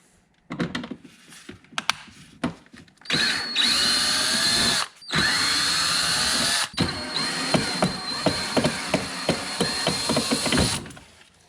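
A power drill backs screws out of a homemade mud flap on a vehicle. It gives short bursts, then long steady whines with brief stops, and ends in a run of rapid stuttering pulses, loud and close.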